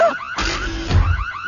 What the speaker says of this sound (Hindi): ये तो इमरजेंसी अलार्म है।